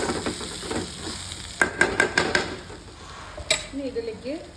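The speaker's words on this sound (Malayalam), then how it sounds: "നന്നായിട്ട് ഇളക്കി കൊടുത്താൽ മതി. അപ്പോൾ അത് നന്നായിട്ട് ഇങ്ങനെ ഫ്രൈ ആയി വരും." Dried prawns fried with onion, garlic and potato in a little oil: clusters of spatula scrapes and clicks against the pan over a continuous sizzle, with a faint tonal, voice-like sound near the end.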